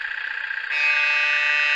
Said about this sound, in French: Plus le klaxon.